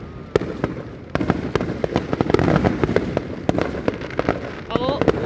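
Fourth of July fireworks go off in a finale, with rapid, dense bangs and crackles bursting repeatedly. The sharp reports pile close together, and voices can be heard among the explosions.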